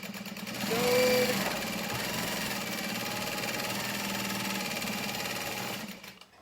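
A sewing machine stitches the lining of a tote bag at a 3.5 to 4 stitch length, running steadily as a continuous close whirring hum for about five seconds before it stops, with no talking.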